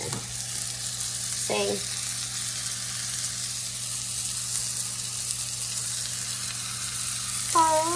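Vegan burgers fry on a stovetop with a steady, close sizzle throughout, and a voice briefly speaks over it near the start and end.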